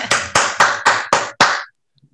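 Six sharp, evenly spaced claps from an online meeting participant welcoming a speaker, close and loud, followed by near silence.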